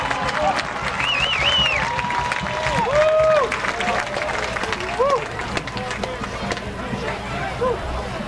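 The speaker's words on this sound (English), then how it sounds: "listen to this Blairsville crowd" A large outdoor crowd roars and cheers steadily at a night high school football game, with whistles and shouts rising over the din and an announcer talking over it.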